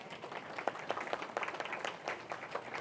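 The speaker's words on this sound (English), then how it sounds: "Will you please give them a round of applause?" A dinner audience claps for the cooks, a brief, fairly faint patter of many hands applauding together.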